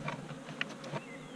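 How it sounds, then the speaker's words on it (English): Honey bees buzz in a dense, steady swarm at an opened hive, a close, continuous drone with a few brief louder passes of individual bees. "Lots of bees."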